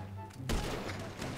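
A single sharp sniper rifle shot cracks out in GTA V Online, loud and close, followed by a rumbling echo over steady background game noise.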